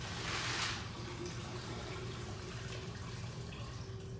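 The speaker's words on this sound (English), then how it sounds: "I'm gonna dump all the water out." Water poured out of a glass-filled mold, splashing briefly and loudly at the start, then settling into a faint steady trickle with a low hum underneath.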